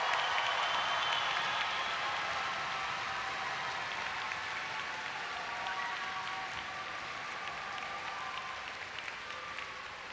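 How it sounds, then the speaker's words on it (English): A graduation audience at a high school ceremony applauds, a dense, distant wash of clapping from a large crowd that holds steady and fades slightly over its length. "Let's give them a round of applause."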